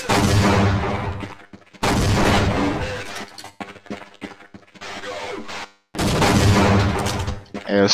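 Airstrike explosions in the video game Half-Life: Hidden Evil, heavy booming blasts rolling in long loud bursts with brief lulls between, mixed with game noise and a voice now and then.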